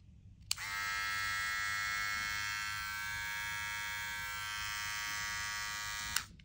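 A Ghost X hair trimmer switched on and running steadily for about six seconds, a loud, even, high electric buzz with a click at start and stop.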